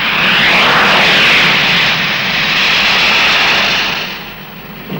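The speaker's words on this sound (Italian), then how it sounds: "Le frecce tricolori stanno per iniziare le loro esercitazioni su 9 aerei G91" Fiat G91 jets of the Frecce Tricolori aerobatic team roar loudly overhead in a sustained, broad rush of engine noise that swells and then fades slightly as they pass.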